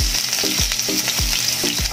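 Garlic hits a little hot cooking oil and sizzles loudly and continuously, with a few rhythmic stirring knocks over the short stretch.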